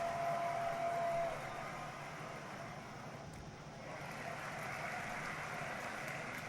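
Baseball crowd at a 1949 Philadelphia versus New York Giants game cheering after a hit, a faint, distant wash of roar that dips briefly and swells again, with no talk over it.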